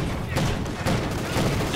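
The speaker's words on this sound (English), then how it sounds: "MG42 firing away." An MG42 machine gun in Company of Heroes 2 fires continuous bursts in a battlefield skirmish, dense rapid rattling with a few sharper cracks standing out, loud and close throughout.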